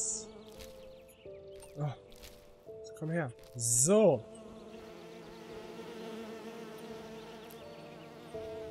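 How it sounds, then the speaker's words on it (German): Bees in the video game Skyrim Enderal give off buzzing sound effects, with a few rising and falling buzzes close by and a steady drone beneath, while someone speaks briefly over them. "ich kann Bienen fangen?"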